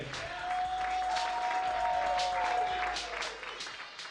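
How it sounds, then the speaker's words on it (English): Comedy club audience applauding for a comedian, a steady wash of clapping with a few sharper claps standing out and a sustained tone running beneath for several seconds. "Clap right now for Dave Ott, everybody."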